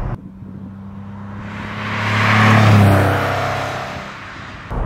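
A 1997 Porsche 993 Carrera 4S with low mileage drives with a rumbling engine note that swells as it accelerates, peaks near the middle, then eases off again, with no talking.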